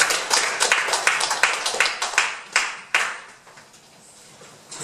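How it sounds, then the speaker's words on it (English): A small audience at a speakers' meeting claps in distinct, fairly close hand strikes that thin out and fade after a few seconds, leaving quiet room tone. "give a big round of applause"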